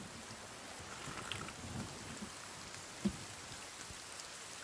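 Steady rain falls in the video game The Forest, a dense continuous patter with a low rumbling wash underneath and one brief sharp knock partway through, with no talk.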